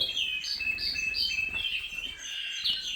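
A canary chick chirps steadily while being fitted with a leg ring, giving repeated high tweets at close range over a soft background hiss.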